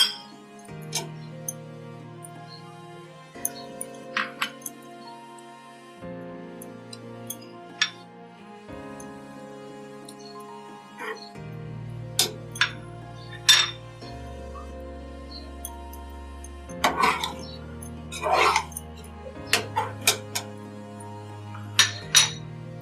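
Metal utensils clink against dishes while rainbow sheer khurma, a sweet vermicelli dessert with fruit, is served out, giving scattered light chinks and taps over a soft steady background with no talking.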